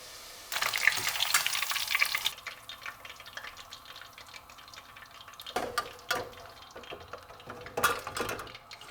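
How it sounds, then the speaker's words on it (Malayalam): Mackerel pieces frying in hot oil, a soft crackling sizzle with bursts of spitting and popping that rise and fall, fairly quiet and close with no talking. "നമ്മുടെ ഈ അയില മുക്കി ഞാൻ ഓയിലിൽ പൊരിച്ചെടുക്കണം"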